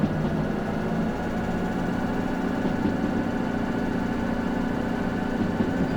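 A diesel locomotive engine at full throttle in the train simulator Derail Valley: a steady, loud, droning rumble with a constant low hum and unchanging pitch, heard alone throughout.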